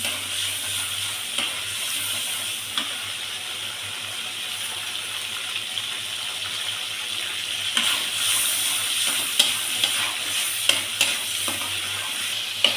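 Spice paste fries in oil in a pan for a Bengali fish curry, giving a steady sizzle under repeated scraping stirs, with a few louder clinks and scrapes toward the end and no voices.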